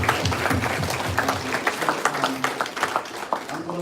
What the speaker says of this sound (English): So just let me give them a round of applause, man, for the first time.